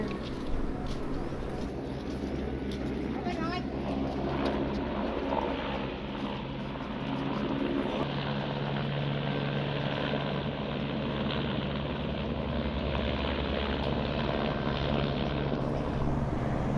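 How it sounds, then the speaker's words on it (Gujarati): A helicopter drones steadily in the distance at Kedarnath, a constant low rotor hum, with faint voices and outdoor bustle mixed in. "એટલે કન્ટિન્યુઅસ હેલિકોપ્ટર આવવાનું જવાનું ચાલુ રહેતું હોય છે"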